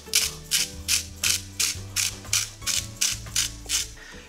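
A pepper mill cranks in about ten even, rhythmic bursts of ratcheting, crunchy grinding, close and fairly clear, while peppercorns are ground over fish in a Christmas carp dish. No one speaks.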